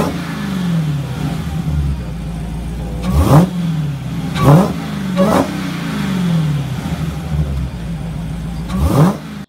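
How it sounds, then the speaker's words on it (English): A car engine revs repeatedly, climbing and dropping in pitch with several sharp rises, loud and close, with no talking over it. "it gets drowned out with the sound of that annoying engine revving"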